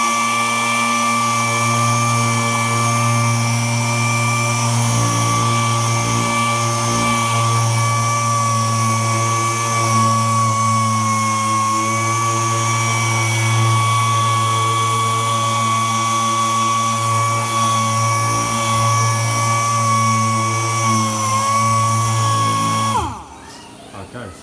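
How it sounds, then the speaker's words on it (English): A loud, steady power sander drone with a constant whine, sanding filler on a boat hull, runs without pause, then cuts off abruptly near the end. "And then sand it down again."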